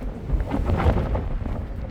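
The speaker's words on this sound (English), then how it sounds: "It's quite windy." Gusty wind buffeting the microphone outdoors, a low rumbling roar that rises and falls over a couple of seconds.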